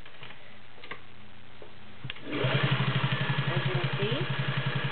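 A vintage Singer Touch & Sew Model 600E with all-metal gears starts up partway through and stitches leather, a fast, even mechanical chatter of needle strokes close by, after a faint tick or two and a brief spoken remark.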